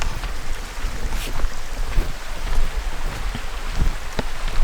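A waterfall roars at a creek-side campsite, a broad, steady rushing wash of falling water close by, constant in level with no voices.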